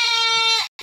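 A single short goat bleat, loud and close, wavering for under a second before cutting off, from a Beetal goat kept with its kids.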